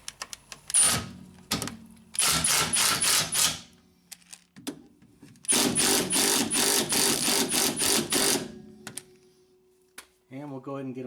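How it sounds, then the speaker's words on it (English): Bursts of an impact wrench hammering suspension bolts in, two or three runs of rapid rattling blows separated by pauses, close and loud, with a brief voice near the end. "I'm going to use my impact just to bring these all the way in"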